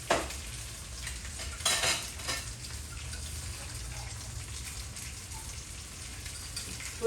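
Potatoes cooking in butter with parsley over a low fire, a soft, steady sizzle with occasional stirring scrapes and a few utensil clinks, close but quiet and with no voices.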